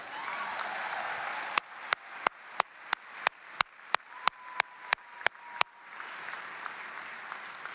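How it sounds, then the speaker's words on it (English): At a university commencement ceremony, a crowd's applause gives way to a run of evenly spaced, sharp rhythmic claps, then returns to a broad wash of clapping. "Now you can clap."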